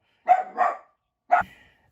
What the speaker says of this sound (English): I'm sorry about all that barking